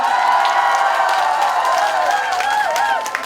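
At an outdoor trot concert during the Yeongdong grape festival, an audience claps and cheers in a continuous, dense wash of applause with scattered shouts and whoops.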